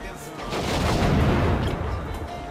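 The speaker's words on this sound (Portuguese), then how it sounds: "Ataque aéreo um atrás do outro" Air strike explosions in the video game Just Cause 3 roll out as a loud, continuous barrage of deep booms that blend into one rumbling wall of blasts across the moment.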